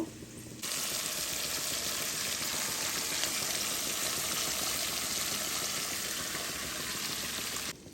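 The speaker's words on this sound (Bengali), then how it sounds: "এবার আগে থেকে তৈরি করে রাখা ডালটিকে দিয়ে দেব।" Pre-cooked dal hitting a hot pan with chopped ginger, a loud, steady sizzle that starts abruptly and hisses continuously close up before cutting off.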